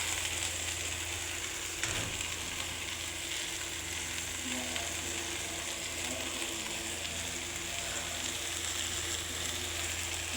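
Red amaranth leaves frying in a small wok give a steady, close hiss of sizzling oil that runs unbroken through the whole stretch, with a faint stir or scrape near the start.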